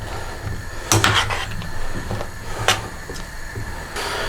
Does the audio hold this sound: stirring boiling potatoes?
yes